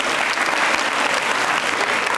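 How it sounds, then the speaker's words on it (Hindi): Loud, sustained audience applause from a quiz show crowd, dense and steady throughout with no pauses, filling the room on its own without talk. "तालियां तो जोरदार बजाइए साहब।"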